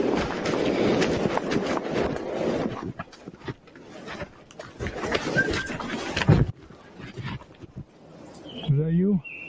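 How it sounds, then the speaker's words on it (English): A lip whistle in the woods: a short rising and falling whistle near the end follows a stretch of rustling, muffled outdoor noise and faint voices. "So that was a lip whistle."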